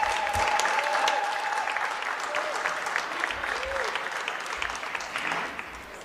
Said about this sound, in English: Let's give the President a better round of applause.